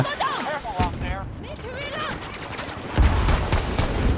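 M1 Garand rifle fire in a video game, several sharp shots and bursts punctuating the scene, close and loud, with someone talking excitedly over the gunfire.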